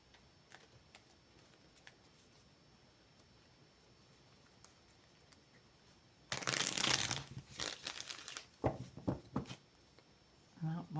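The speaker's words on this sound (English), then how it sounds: "one more shuffle here" Tarot cards being shuffled by hand, a quiet start giving way to a burst of loud, dense riffling and crinkling, then several shorter shuffling bursts, close up and with no talk over them.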